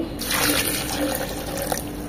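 A mug of water pours into a blender jar in a short, close splashing stream lasting about two seconds, with no voices.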